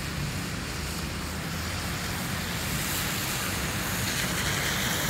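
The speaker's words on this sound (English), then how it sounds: "we have flash flooding going on here, big time. It is a river over there." Flash flood water rushing down a street at the intersection of Highway 56 and US 31 in Scottsburg, Indiana, a steady, loud broadband roar of torrent noise throughout with no letup.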